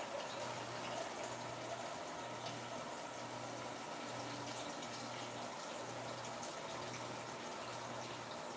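Water running steadily into a glass at home, a continuous close hiss and gush lasting several seconds with a faint pulsing hum underneath, no voices.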